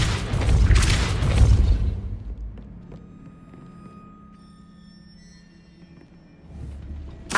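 The Depulso spell in the Hogwarts Legacy game lands as a heavy, booming burst that fades over a couple of seconds into a quiet hum, with another low thump at the close.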